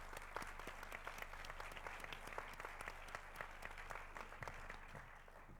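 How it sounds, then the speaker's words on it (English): An audience claps for a speaker at a talk, a steady patter of many hands heard at a distance and fairly faint, with no cheering. "Can we give him a big round of applause?"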